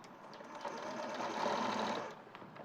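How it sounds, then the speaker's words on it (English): A sewing machine runs a short back stitch along a fabric seam, giving a steady, close mechanical whir for about two seconds before it stops. "I'm going to stitch about 1/2 inch. Do a back stitch."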